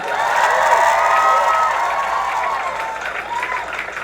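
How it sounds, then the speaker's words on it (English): A crowd applauds and cheers loudly, with scattered whoops rising over steady clapping that stays strong throughout before easing slightly toward the end. "Give a round of applause to NPR for putting this whole thing on."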